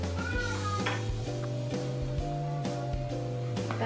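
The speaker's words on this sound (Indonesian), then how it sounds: "Di sini langsung aja kita masukkan potongan bawang merah dan bawang putihnya. Kemudian kita masukkan juga cabai rawit utuh." Shallots, garlic and whole bird's eye chilies go into a pan for sayur asem, giving a soft sizzle with scattered utensil clinks and stirring scrapes over a steady low hum, fairly quiet and close.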